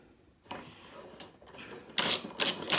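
A half-inch socket on a 3/8 ratchet works loose a lawn mower flywheel bolt during a flywheel key replacement, with faint clicks and scrapes building to three louder bursts of ratcheting and metal rasp near the end.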